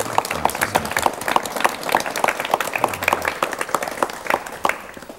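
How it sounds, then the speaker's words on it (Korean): Audience in a 1985 Korean television studio claps to welcome an elderly scholar onto the show, a lively run of individual claps that stays fairly close and loud before thinning slightly at the end. "박수로 맞이해 주십시오."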